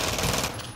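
Sustained gunfire in a Call of Duty: Modern Warfare multiplayer match, loud and dense, running through the brief moment and tapering slightly toward the end with no voices.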